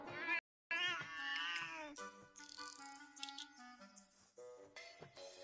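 A cat meows in a scene from the anime Naruto Shippuden, high drawn-out mewing cries repeating over a few seconds amid background music and other sounds.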